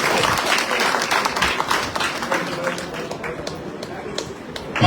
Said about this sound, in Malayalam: നല്ല കയ്യടി